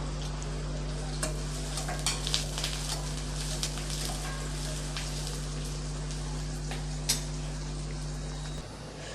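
Onions and broken dried red chillies frying in a pan for a snake gourd dal kootu, a steady close sizzle with scattered stirring clicks and a constant low hum underneath.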